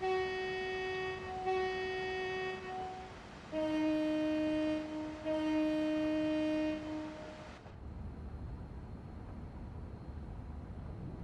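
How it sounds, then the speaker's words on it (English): A loud, multi-tone train horn in a PS4 train simulator game, West Coast Main Line scenario, blasts twice in long sustained chords, then fades to a steady low rumble of the moving train. "if you want to hear the horn"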